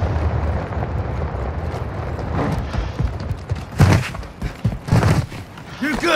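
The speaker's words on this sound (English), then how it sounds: "You are taking effective fire." Gunfire and explosions in Call of Duty DMZ, a rumbling firefight with several heavy booming bursts in the second half over constant battle noise, with a voice speaking alongside.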